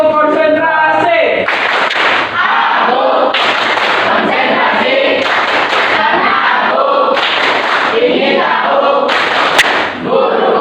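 A group in a coaching session for academic supervision claps together in sharp, rhythmic bursts separated by short pauses. The clapping is close and loud, with voices chanting along between the claps.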